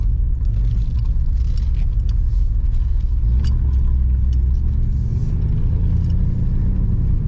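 An old car that sat unused for 17 years, heading off to the car wash on its first drive, gives a steady, loud low engine rumble with rough road noise and faint rattles throughout.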